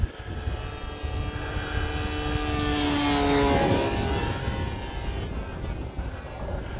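The electric motor of an H-King Wargo Signature Edge 540T RC airplane drones overhead in flight, rising to a whining peak as it passes and then fading, with light wind noise beneath it.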